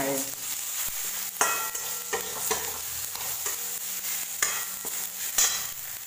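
Green mung dal with garam masala is stir-fried in a pan, a continuous sizzle broken by repeated scraping strokes of a spoon, close and clear with no talking.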